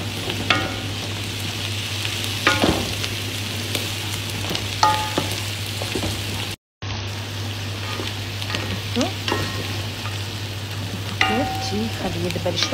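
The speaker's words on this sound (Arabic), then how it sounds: "شوفوا الصنوبر بدا شوي ياخذ لون مع البصل" Chopped onion and pine nuts frying in a pan, a dense continuous sizzle with occasional sharper pops and scraping stirs, steady and close, with a brief dropout midway.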